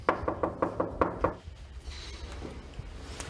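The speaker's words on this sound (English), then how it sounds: "Shall I knock? I think you should knock." About seven firm knuckle raps on an apartment door in an even, quick rhythm, close and loud, followed by quiet hallway ambience with faint shuffling.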